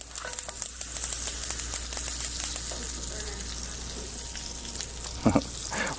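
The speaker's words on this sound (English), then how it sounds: "We're gonna start sauteing our vegetables." Vegetables sauteing in a pan after browning short ribs, a bright continuous sizzle with light crackles and a brief stirring clatter near the end, close up with no talking.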